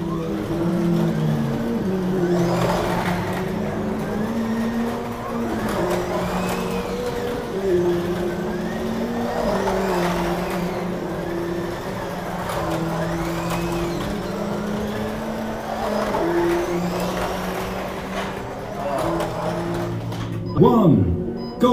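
Several 1/24 scale digital slot cars race around a large track, their small motors whining continuously and rising and falling as they lap, with a sharp clatter near the end.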